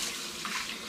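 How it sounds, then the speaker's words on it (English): Tap water runs steadily into a sink as bottles of home-brewed hoppy cider are rinsed, a continuous close splashing hiss with no talking. "I'm just going to give them a quick rinse"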